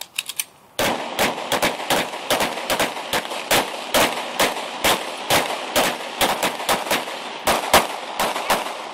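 Loud, evenly spaced gunshots fire one after another during officer training, around two dozen sharp reports over several seconds after a few quieter pops at the start.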